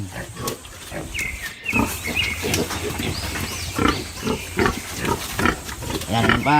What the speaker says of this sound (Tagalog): yan pong mga binibigay ko sa aking mga alagang biik